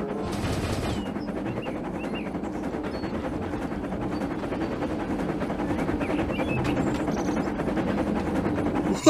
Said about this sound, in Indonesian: Wih, ada kereta Thomas.